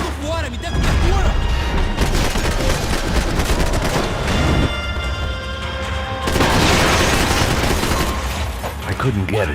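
Gunfire from the video game Max Payne 3, dense bursts of shots and booms filling the whole stretch, loud and close, with voices speaking amid the shooting.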